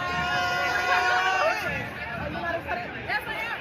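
A crowd at an Indiana Fever basketball game cheers and chatters in a dense, excited roar of many voices, rising and falling briefly.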